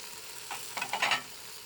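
Beef cubes browning in a Fagor pressure cooker, a soft crackling sizzle that flares in a few short bursts and then settles, close and moderately quiet with no voices.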